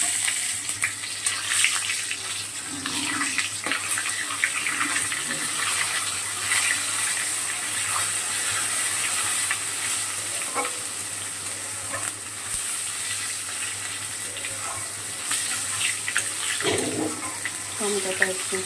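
Cumin seeds sizzle and crackle in hot oil as a tempering, a steady close hiss with scattered pops and a few stirring scrapes.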